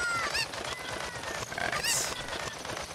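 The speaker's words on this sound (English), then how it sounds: "I hear the chicken." Chicken clucking in Zelda: Ocarina of Time, a few short squawking calls in-game over quiet background, fairly faint and alone without talk.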